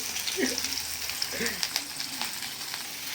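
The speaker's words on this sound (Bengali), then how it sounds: "খানিকক্ষণ ভেজে নিতে হবে হালকা হালকা করে" Steady oil sizzle and crackle of chili and onion frying, with faint low voice sounds and occasional stirring scrapes underneath.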